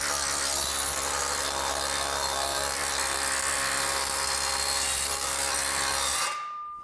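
A JET planishing hammer shapes sheet metal with a continuous rapid buzzing chatter and a steady low hum, loud and close for about six seconds before cutting off abruptly.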